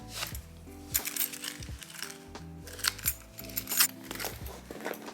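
Metallic jingling and clinking of car keys dropped and shifted among items in a Lady Dior handbag, in short bursts with soft rustling between.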